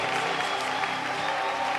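A church congregation claps and cheers in acclamation of Jesus during a worship service, a continuous wash of applause and voices, steady and fairly loud for the whole moment.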